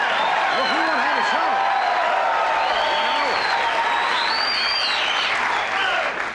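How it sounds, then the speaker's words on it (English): Sustained applause from a television studio audience on a 1981 late-night talk show, dense and continuous, with cheering and whoops riding on top. "Boy, I thank you for that applause."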